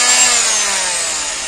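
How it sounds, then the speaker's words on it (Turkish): A vibrating oscillating multi-tool with a thin saw blade cuts trim out of a caravan door frame in one steady, loud, high buzzing burst with no voices. "O yüzden böyle bir titreşimli makine kullanıyorum. Araya sokup kese kese bunları çıkartmaya çalışıyorum."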